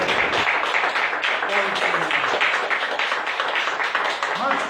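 Applause from a church congregation at an evening service, dense continuous clapping filling the room throughout, with voices mixed into the clatter.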